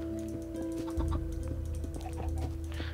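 A Minecraft chicken gives short repeated clucks over steady in-game background tones, close and moderately loud.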